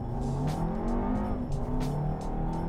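Turbocharged EA888 four-cylinder in a 2019 VW Arteon with all-wheel drive pulling uphill, a steady, close engine drone that rises and holds under load with no talk over it.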